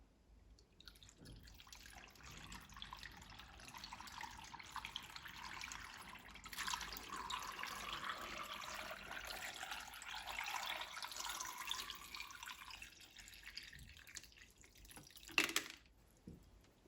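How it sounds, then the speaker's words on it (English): A jug of water poured into a vase, a long, fairly quiet trickling and gurgling stream that swells midway and ends with a brief louder splash, no voices. "now I'm going to try and add this jug of water"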